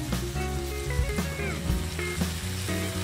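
White onions with a little salt and sugar sizzle steadily in hot oil while caramelizing for carbonara, a close, continuous crackling fry with occasional stirring scrapes.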